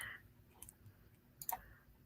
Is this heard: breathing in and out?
no